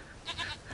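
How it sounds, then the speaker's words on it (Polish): A goat in The Witcher 3 gives a short, close bleat lasting under a second, wavering in two quick pulses with no talk over it. "Sympatyczna koza. Prawda, że sympatyczna?"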